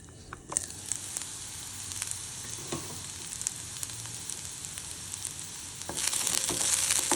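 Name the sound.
bitter gourd sabzi cooking covered in pan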